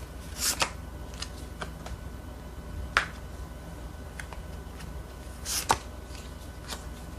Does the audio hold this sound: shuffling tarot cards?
yes